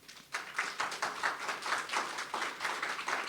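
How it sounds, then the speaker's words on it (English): An audience applauds panelists at a logistics and freight business forum, a brief, steady patter of many hands clapping, faint and somewhat distant, with no talk over it. "I really would like to have a big applause for all the panelists"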